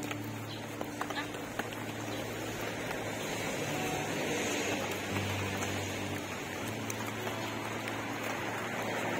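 Rain patters steadily on a new tarp outdoors, a constant close hiss of falling drops running the whole time beneath people talking.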